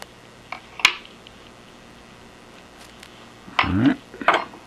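Square nuts and a lock washer come off the apron of an Atlas 10F lathe, giving a few sparse metallic clinks and scrapes separated by quiet workshop background.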